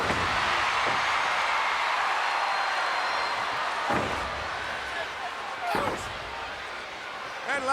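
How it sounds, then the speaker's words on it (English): Wrestler slammed onto the ring mat during a WWE match, a few sharp thuds ringing out over continuous commentary and a noisy arena crowd. "Lex Luger off the rope and caught and slammed by Yokozuna"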